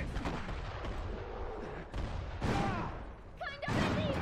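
A grenade explosion in the Iron Harvest strategy game comes as a heavy boom amid rumbling battlefield gunfire and crashes. Several distant shots and bursts follow, with faint voice snippets from units in the mix.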